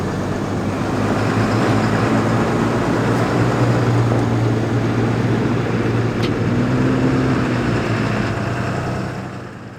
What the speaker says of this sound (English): Getting a full-size Dodge up and over this wall.